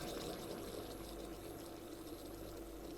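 Espresso pouring from a 9Barista Mk2 stovetop espresso machine, a soft steady trickle and gurgle of liquid that stays faint and continuous with no speech.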